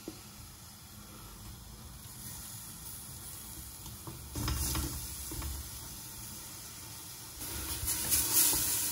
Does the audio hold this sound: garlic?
yes